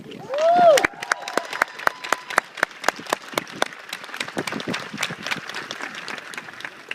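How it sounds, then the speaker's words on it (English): An audience at a 2013 university commencement ceremony bursts into applause, with distinct scattered claps that thicken into a lively round, preceded by a brief whistle-like tone near the start. "I want to give the soldiers and that lieutenant a round of applause."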